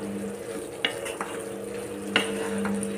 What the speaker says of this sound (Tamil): இந்த பெரட்டி மட்டும் விடுவோம்